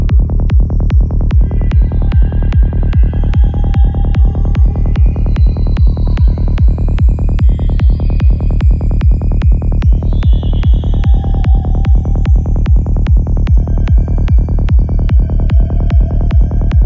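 Spooky synth atmosphere in the Vital synthesizer, run through a comb filter at full mix, giving a steady throbbing pulse with a low drone and high, ringing metallic tones that drift in and out.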